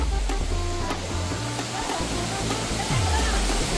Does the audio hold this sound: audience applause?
no